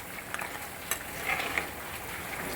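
Ivy gourd curry, cooked in the style of fish curry, comes to a boil in a pan with a gentle, continuous bubbling sizzle and a few soft pops.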